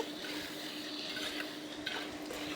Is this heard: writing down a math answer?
no